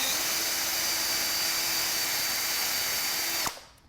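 A power drill whirs steadily at close range for a few seconds, drilling into pallet wood at an angle, then cuts off abruptly and winds down.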